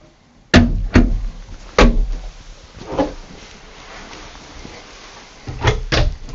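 Storage compartment doors in the sleeper of a 2023 Renegade Classic 43CMD Peterbilt 389 are opened and shut, giving a series of sharp thunks and knocks, two early, others spaced out, then a final pair close together.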